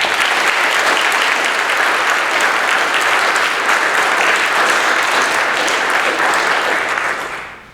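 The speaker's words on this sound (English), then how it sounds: "Please join me in a big round of applause for all of our cadets." Audience applauding cadets at a ceremony, a dense, steady round of clapping that fills the room without pause before trailing off at the very end.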